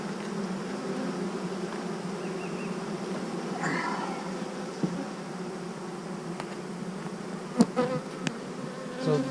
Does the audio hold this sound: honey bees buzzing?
yes